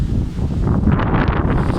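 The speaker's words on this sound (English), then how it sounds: "Whoa, that's really windy here." A strong, gusty wind batters the microphone outdoors. It makes a loud, steady, low rumble and buffeting with a faint rustle of trees behind it, and no one speaks.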